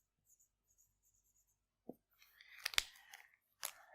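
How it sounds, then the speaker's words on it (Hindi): Chalk or pen writing on a board during a maths lecture, a few short scratchy strokes and taps close by in an otherwise quiet room. "यहाँ पे मैं लिख रहा हूं"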